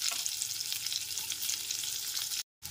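Chopped onions and capsicum sizzle in hot oil left over from frying potatoes, a dense, steady hiss heard up close that cuts out briefly near the end, with no talking.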